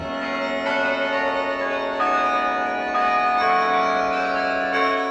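Several large carillon bells ring out in sequence, played from a keyboard, each new strike blooming over the lingering hum of the previous ones, loud and close with no voices.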